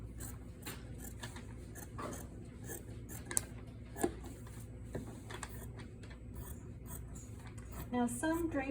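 Fabric scissors snip through muslin being draped on a form, a series of soft, irregular cuts and clicks close by against a quiet room background, with light rustling near the end.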